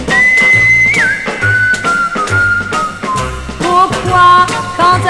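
Bright whistling in a French version of a swing tune, with a clear sustained whistled line over thumping bass and drums, loud and upfront in the music.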